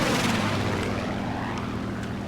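Steady propeller engine drone of a Focke-Wulf Fw 190 F-8 fighter in War Thunder air realistic battle, a continuous near, loud low hum with faint flickers of distant gunfire, no talking.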